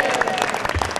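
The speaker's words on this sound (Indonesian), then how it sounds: "Kasih tepuk tangan dong" Studio audience applause on a TVRI motivational talk show, a brief burst of crowd clapping at moderate volume, alone without talk.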